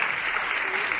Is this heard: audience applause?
yes